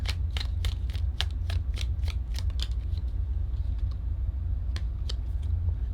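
Tarot cards riffled and shuffled in quick, crisp bursts, a rapid run of snapping card flicks early on, then a few scattered single flicks and pulls over a steady low hum.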